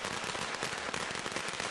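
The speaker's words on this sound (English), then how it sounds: "lights a string of firecrackers, a traditional Chinese custom that is performed to chase away negative energy" A string of firecrackers set off in a traditional Chinese custom crackles in a dense, continuous burst of rapid pops, loud and close.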